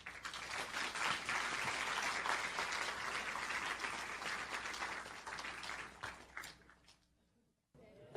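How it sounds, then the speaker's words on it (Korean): An audience applauds loudly and steadily to welcome a lecturer at a public talk, the clapping dense for about six seconds before thinning and breaking off near the end. "사회통합부 이사님을 힘찬 박수로 맞이해 주시기 바랍니다."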